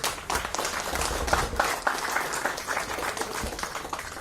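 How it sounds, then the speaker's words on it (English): An audience at a business conclave applauds in a sustained round of dense clapping that stays loud and even throughout, with no speech over it. "Can we have another round of applause for him, everyone?"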